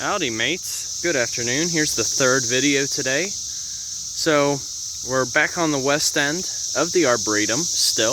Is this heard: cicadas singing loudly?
yes